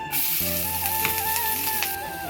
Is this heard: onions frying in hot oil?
yes